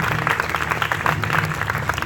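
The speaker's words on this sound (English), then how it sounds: "So give yourselves a round of applause" An audience at a martial arts Hall of Fame award ceremony and demonstration bursts into steady applause, a dense wash of clapping that holds throughout.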